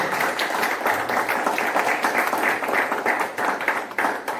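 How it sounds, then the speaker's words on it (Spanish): A church congregation claps together for the Lord during a Sunday morning sermon, a dense, steady wash of applause filling the room without a break. "Fuerte ese aplauso al Señor."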